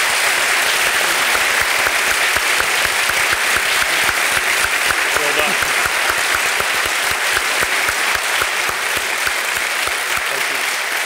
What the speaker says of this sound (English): let's give one more round of applause for these two fine gentlemen